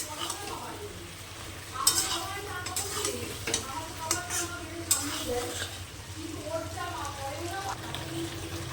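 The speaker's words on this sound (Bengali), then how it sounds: "মশলাটাকে আমি ভালো করে আগে কষিয়ে নিচ্ছি।" Spice paste with tomato being fried and stirred in a pan for a fish curry, soft sizzling under scraping and clinking of a spoon against the pot, with a voice talking intermittently over it.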